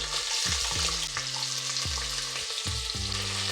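Green chillies and onions fry in oil with spices, giving a steady close sizzle beneath a series of low, sliding tonal scrapes and bumps from stirring.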